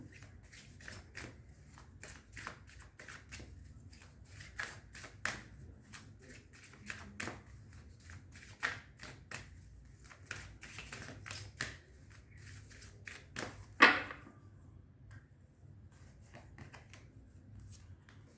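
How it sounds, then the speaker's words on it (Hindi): Tarot cards being shuffled by hand, a steady run of soft riffling and slapping bursts close up, with one sharper snap near the end, over a low background hum and no talking. "इसीलिए मैं दोबारा शफल कर रही हूँ"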